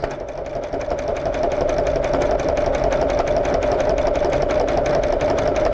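A sewing machine runs steadily and loudly, stitching along one edge of a cherry rug design, its rapid even needle rhythm continuing unbroken without speech.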